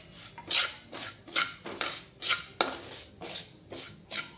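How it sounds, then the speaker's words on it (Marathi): A spoon scrapes and stirs red chilli powder, turmeric and garam masala with oil in a pan for amla pickle, giving repeated rhythmic scraping strokes up close with no talking. "आणि छान असं मिक्स करून घ्यायचं आहे."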